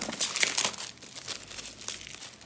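Crinkling packaging as a skincare product box is opened, with a continuous close rustle and crackle of plastic and paper lasting a couple of seconds.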